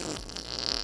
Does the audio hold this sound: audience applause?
no